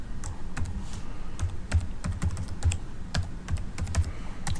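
Fingers type an email address on a computer keyboard, giving a quick run of separate key clicks with uneven rhythm, close and fairly quiet, with no talking.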